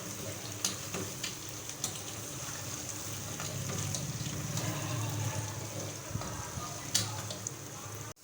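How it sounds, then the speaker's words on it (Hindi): Spices with turmeric and salt frying in a pan give a steady soft sizzle throughout, broken by occasional light clinks of stirring against the pan, with a voice talking faintly over it. "इसको भी हल्का सा फ्राई कर लेंगे"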